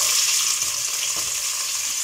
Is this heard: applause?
no